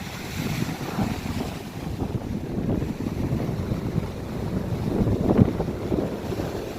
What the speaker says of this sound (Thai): ลมแรงมากๆครับ